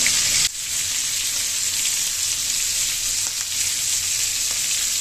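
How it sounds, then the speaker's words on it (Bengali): Prawns shallow-fry lightly in oil in a pan, a loud, steady close-up sizzle and crackle that continues without pause after a brief clatter at the start. "দেখো মাছটা প্রায় ভাজা হয়ে গেছে আমি একদম হালকা করে ভেজে নিয়েছি"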